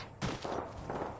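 Gunfire bursts out in the Apex Legends video game, a sudden loud volley of overlapping shots that keeps crackling in quick succession.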